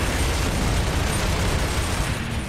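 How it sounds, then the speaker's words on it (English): Mortar shell detonation in Gears of War 2 during a battle against a Locust army, a sustained loud, dense boom and rumble filling the whole stretch without letup. "Ooh, nice mortar from Dom."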